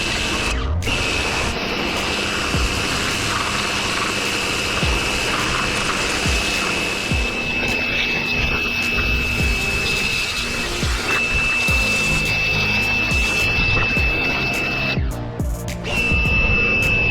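Steady loud hiss and whine of a pressure washer spraying the white walls of a 1981 Monte Carlo, with a constant pump tone running almost without break.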